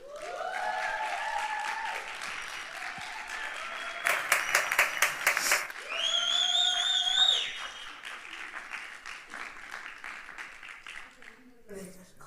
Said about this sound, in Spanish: y ya pueden aplaudir